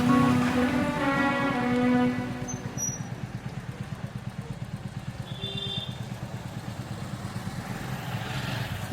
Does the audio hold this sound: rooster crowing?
no